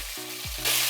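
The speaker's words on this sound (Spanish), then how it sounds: "dejamos que se fría un poco nuestra salchicha con el aderezo" Polish kielbasa sausage fries with sofrito in a pan, giving a dense hissing sizzle that swells louder toward the end of a very short moment, with a low steady hum underneath.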